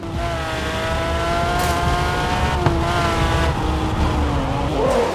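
A car drifting in an open-world Android racing game, its engine droning steadily with a continuous high tire squeal layered on top, loud and close throughout, without talking.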